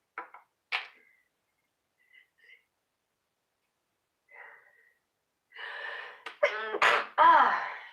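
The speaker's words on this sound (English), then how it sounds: "Oh my, I feel a sneeze coming." After a few small sniffs and breaths, a person lets out a loud sneeze at close range, followed by a short exhale.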